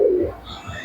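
A female Kaldoma pigeon gives a single short, low, throaty coo close by, fading into quiet rustle.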